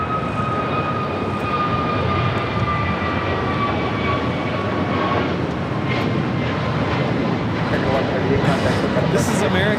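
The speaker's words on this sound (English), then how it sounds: "This is American Airlines 1138 taking off to Charlotte on an A321neo." American Airlines Airbus A321neo taking off from LAX bound for Charlotte, a sustained loud jet roar with a clear engine whine running through it, heard alone.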